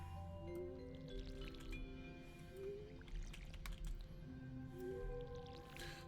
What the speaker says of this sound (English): And now we can go ahead and water them.